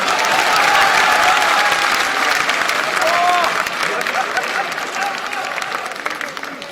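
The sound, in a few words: crowd applause at a political rally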